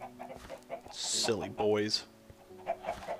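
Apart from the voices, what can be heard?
chickens clucking in the video game Minecraft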